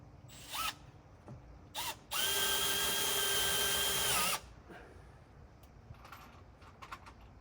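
A power drill drives screws into roof beams during a roof installation, one steady whining run of about two seconds, loud and close, with brief shorter tool bursts and clunks before it and faint knocks afterward.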